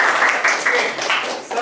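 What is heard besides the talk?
applause in a classroom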